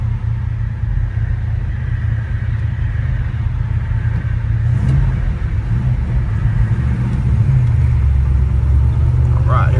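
A 1967 Chevrolet Chevelle SS 396 V8 rumbles loudly and close by, its deep engine note holding steady for about ten seconds with a slight swell near the end.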